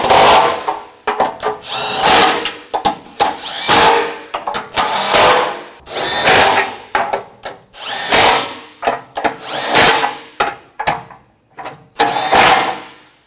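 A power tool tightens the nuts on the rear bumper impact absorber of a 2014–2020 Nissan Rogue, loud, close whirring bursts revving up and stopping repeatedly in short runs of a second or two, with brief gaps between them.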